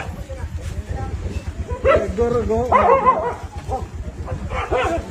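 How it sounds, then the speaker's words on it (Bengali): Several dogs fighting over food bark, yip and whimper in a noisy tussle close by, with overlapping yelps over a low rumbling background. "দেখেন কুকুরগুলোর কি ঘিজি ঘিজি অবস্থা, কিভাবে তারা খাবার ছিনিয়ে নিচ্ছে এবং খাচ্ছে"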